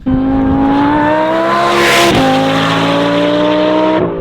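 Supercharged Lamborghini Huracan on a race track warm-up lap, a loud close engine howl rising through the gears with two quick upshifts and a brief tire squeal as it passes.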